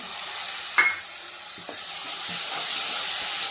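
Onion frying in a pan before tomato, ginger and garlic paste goes in for a bottle gourd kofta curry, a steady quiet sizzle with a couple of spoon taps and scrapes, and no talking.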